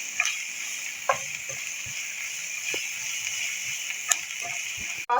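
Chopped onions sauté in a pan with a steady, soft sizzle and a few light stirring clicks and scrapes, close by and without talk.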